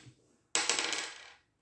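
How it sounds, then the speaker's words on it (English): A small handful of dice clatters and rattles across a tabletop in a wargame, one sharp burst of tumbling clicks that quickly settles, heard alone in a quiet room. "I will reroll 2 of the dice"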